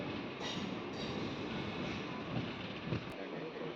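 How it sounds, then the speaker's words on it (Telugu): A passenger train pulling away from Ramavarappadu station on the Vijayawada to Bhimavaram line, heard from inside the coach as a steady low rumble and rolling noise with some wind buffeting. "రామవరపాడు నుంచి మన ట్రైన్ అయితే మూవ్ అయింది"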